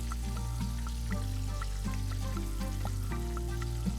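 Mushrooms, artichokes and onions fry in a pan in a kitchen in Ascoli Piceno, a steady quiet sizzle under a low continuous hum with occasional faint clicks.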